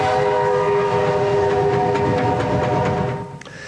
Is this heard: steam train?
yes